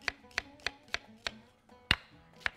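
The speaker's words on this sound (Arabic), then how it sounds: "بنقطع البصل بتاعنا مكعبات صغيرة اهو كده" A knife chops an onion into small cubes, giving seven crisp, evenly spaced taps with one harder strike near the end. The sound is close, quiet and clean, with no talking.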